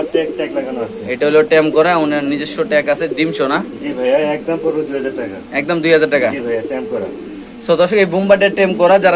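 Large Bombay pigeons coo and flutter close by on a fancy pigeon farm, their soft calls repeating throughout under loud, continuous talking from a man.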